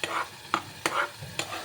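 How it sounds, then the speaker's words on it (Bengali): Leftover paneer butter masala curry boils in a pan, giving about five distinct bubbling pops at uneven intervals over a soft background simmer, close by. "টকবক করে ফুটছে।"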